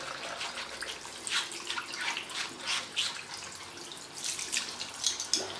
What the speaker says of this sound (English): And now I'm going to put them on a rinse.